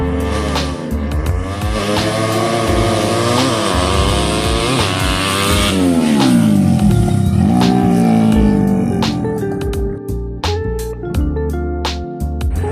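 Open-valve 130cc drag racing motorcycle engine screaming at high revs, pitch climbing and dropping through repeated throttle pulls, loud and close with a constant rasping roar at a drag race.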